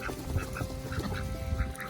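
Domestic ducks quack and honk repeatedly in a backyard pen, a string of short, fairly faint calls at close to moderate distance over low background noise, with no speech.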